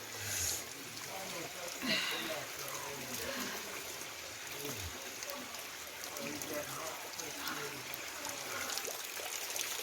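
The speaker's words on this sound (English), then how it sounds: "you can see this hole that the water is pouring through directly out of the rock, scorching hot water." Scorching hot spring water pours out of a hole in the rock at a Jamaican spa, a steady wash of running, splashing water that continues throughout.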